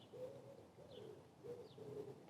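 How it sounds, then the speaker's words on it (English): Bird song outdoors at sunrise during a quiet camping morning, soft cooing calls repeating in a steady rhythm with faint higher chirps, moderately distant over light ambient background. "listening to that bird song"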